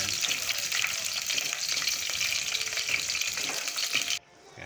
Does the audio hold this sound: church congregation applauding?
no